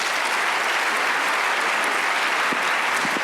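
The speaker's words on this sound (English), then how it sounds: "So please join me in giving our wonderful panel one more big round of applause" An audience at a regional health meeting claps for a panel, dense continuous applause filling the room at steady loudness without letup.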